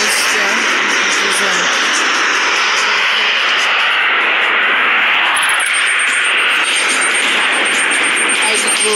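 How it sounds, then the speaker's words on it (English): A Flying Fortress bomber's engines in a video game produce a loud, continuous droning roar that holds steady throughout, with a faint high whine entering late. "Looks like they have a flying fortress here."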